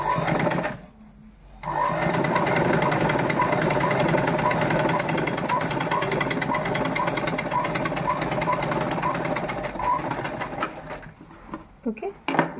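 A sewing machine stitches a uniform shirt in a fast, steady, close mechanical whir that runs for about nine seconds after a brief pause near the start, then slows into a few short bursts at the end.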